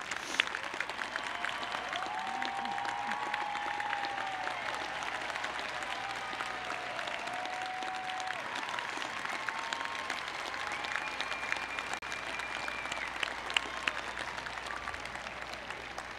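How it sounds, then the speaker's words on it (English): At an outdoor university commencement ceremony, families and supporters stand and applaud, the clapping distant and continuous over the whole stretch, with scattered whoops and cheers rising above it. "ask that you now stand for a well-deserved round of applause"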